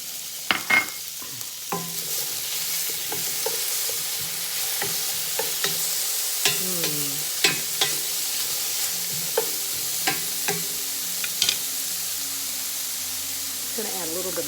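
Ginger and onions fry in a pan with a steady close sizzle, broken by sharp scraping clicks of a utensil. Some faint speech is also heard.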